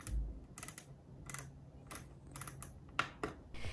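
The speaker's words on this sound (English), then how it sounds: "It also has a satisfying knob at the top right. It makes a nice click when you turn it." Light, crisp clicks from the rotary knob on an Epomaker RT100 keyboard come in a quick irregular series of separate ticks, close and clear against a quiet background.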